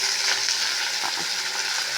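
Chopped arai keerai spinach greens with sautéed onions and dried pepper frying in a pan, a steady close sizzle with faint stirring scrapes and no voice.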